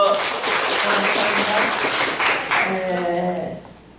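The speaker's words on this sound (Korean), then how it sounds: "박수로 청해 듣겠습니다" An audience at a Korean church gathering applauds: dense, continuous clapping that fades out toward the end, with voices talking over it.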